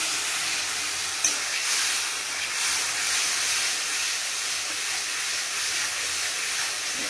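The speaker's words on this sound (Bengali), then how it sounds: "আর এই যে এই ধোয়া জলটা এবারের মধ্যে দিয়ে দিলাম।" Wash water poured into a hot pan of fish curry base with salt, sugar and turmeric sets off a steady, bright hissing sizzle that lasts the whole stretch, close and unbroken, with no voices.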